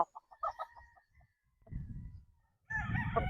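Young gamecock stags, 12 months old and including Sweater and Boston Roundhead bloodlines, crow and cluck close by in short bursts, with a longer crow breaking out at the end.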